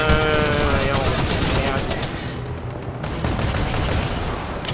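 Rapid automatic turret gunfire from Titanfall 2 rattles continuously through the whole stretch, loud and dense, with a layer of in-game action noise beneath it.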